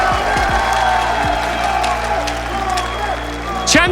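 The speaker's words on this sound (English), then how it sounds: "One more ovation from the crowd here." A large esports crowd at the Rainbow Six Siege Atlanta Major grand final cheers and applauds in a steady roar, with a caster talking over the noise.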